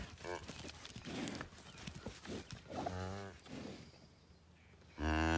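A calving heifer lets out several deep, drawn-out moos close by, with rustling and movement between the calls and a final loud low bellow.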